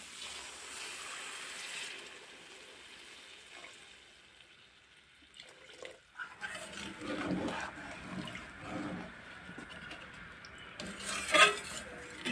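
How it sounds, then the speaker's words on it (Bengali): Water is poured into a pan of curry with fried potato and pangasius fish simmering in spiced masala. After a quiet stretch, a sloshing splash comes close by, mixed with stirring and pan clatter, and a sharper clink follows near the end. "এখন ঝোলের জন্য জল দিয়ে দেব"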